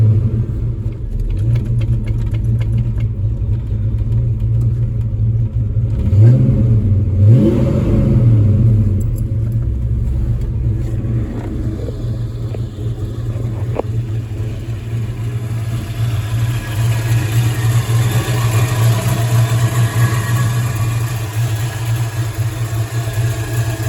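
A Ford Mustang 5.0 GT Fox Body with a 302 V8 rumbles at a loud, steady idle. It revs up and down twice in quick succession, then settles back into a long, even idle.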